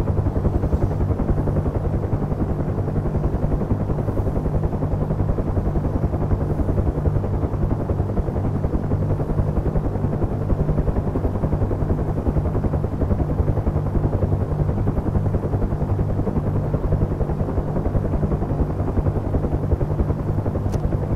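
A helicopter flies steadily while climbing for a deliberate retreating blade stall. Its loud, continuous rotor and engine drone stays close and constant throughout with no talk.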